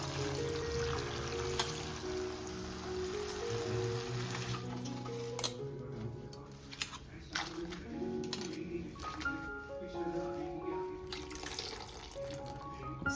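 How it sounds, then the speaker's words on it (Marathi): Wild leafy greens being washed in clean water in a sink, steady running and splashing water with trickles and occasional clinks of handling, fairly close and without talk. "तर चला आता आपण भाजी धुवून घेऊया मस्त स्वच्छ पाण्याने."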